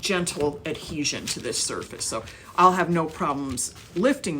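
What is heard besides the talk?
None of the usual background noises is heard.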